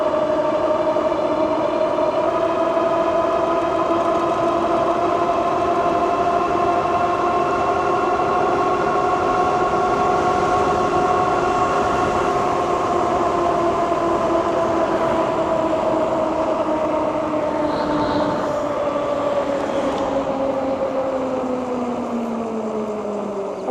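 A Jansno X70 electric bike motor whines under throttle-only acceleration, a loud steady tonal hum that climbs and holds before sagging slightly at the end, with wind and road rumble underneath.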